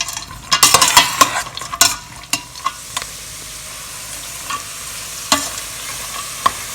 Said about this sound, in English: raisins and coconut and mix them well till butter melts and gives brown color.